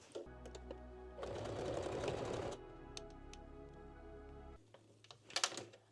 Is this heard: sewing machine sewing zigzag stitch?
yes